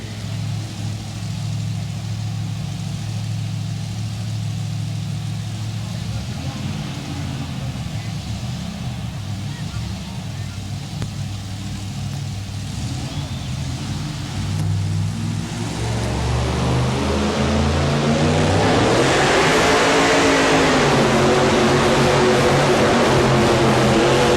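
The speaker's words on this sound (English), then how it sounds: "So here we come. Brockman, the Kodiak In-Laws and Outlaws pulling team" A two-wheel-drive pulling truck roars through a truck pull at Freedom Hall in Louisville, Kentucky: a loud, sustained engine drone that builds and rises in pitch toward the end, with crowd and announcer noise mixed in.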